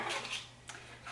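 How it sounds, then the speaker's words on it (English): Paper cupcake liners with a parchment-like feel are dropped into metal muffin tins, giving a few light papery rustles and soft taps close by. "I am just going to pop some cupcake liners into my cupcake pans, into my muffin tins"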